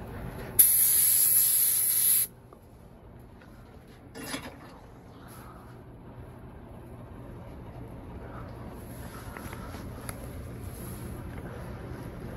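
Clean Armor clear coat sprayed from a spray gun, a loud steady hiss for about two seconds that cuts off abruptly, followed by faint brief bursts and quiet background noise.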